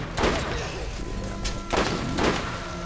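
Enemy gunfire in the video game Borderlands, three booming shots with echoing tails spread over a few seconds, fairly loud against a low background.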